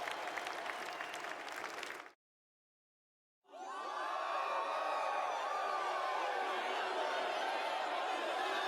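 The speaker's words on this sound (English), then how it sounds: "Why are they clapping?" In the video game Metaphor: ReFantazio, a crowd bursts into loud, sustained applause with scattered cheers, cutting off briefly into silence before the clapping returns even fuller and steady.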